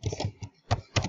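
Close, clicky keystrokes on a computer keyboard, five quick taps in an uneven rhythm, sounding alone in a quiet room.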